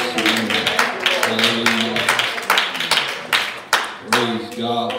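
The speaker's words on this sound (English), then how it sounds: "Can we give the Lord a hand clap?" A church congregation clapping hands together in a steady, rhythmic beat, loud and close, with layered overlapping claps throughout.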